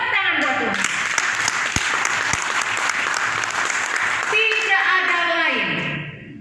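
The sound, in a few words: applause for God in church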